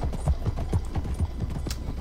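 Horse hooves clip-clop in a steady, even rhythm in Red Dead Redemption 2, about eight close, distinct footfalls over two seconds with no talking.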